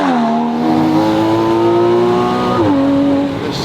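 A Porsche Cayman with a 2.7-liter engine and an exotic aftermarket exhaust accelerates hard. The close, tonal engine note climbs steadily, dips briefly at a gear change, then rises again, with no voices.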